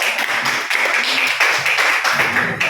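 Group applause for a student team in a classroom coaching session: dense, steady clapping from many hands throughout, fairly loud and close, with a few faint voices underneath.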